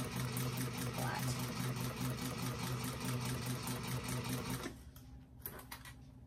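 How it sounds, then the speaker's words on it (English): A sewing machine runs steadily, basting the raw edges of a fabric bag together in a fast, even mechanical rhythm that stops near the end, followed by a few quiet handling clicks. "And then just continuing basting these raw edges together along here."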